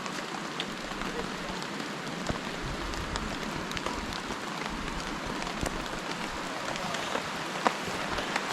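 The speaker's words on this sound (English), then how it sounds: "But it's been raining really hard now" Heavy rain falls steadily on a trail shelter on the Appalachian Trail, a dense continuous patter with scattered louder drops, fairly close and even throughout.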